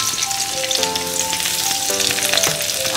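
Chopped garlic sizzles hard in hot frying oil, a loud, dense crackle that stays continuous throughout, with a few clinks of a utensil against the pan.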